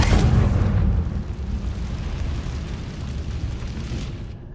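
Confringo explosion spell cast in Hogwarts Legacy, a loud booming blast at the start that decays into a long rumbling roar lasting several seconds.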